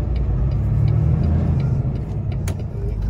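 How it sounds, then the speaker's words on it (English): A truck with a PACCAR Endurant 12-speed automated transmission rolls forward from a stop, giving a steady low engine rumble with no talk. "It starts to roll forward just like a normal automatic does."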